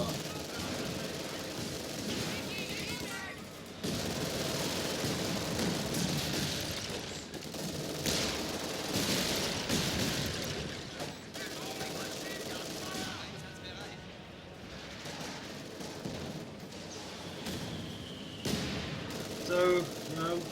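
Machine gun fire and scattered rifle shots crackle in a winter battle in the game Company of Heroes 2, sustained rattling bursts with occasional booms, steady under someone talking throughout.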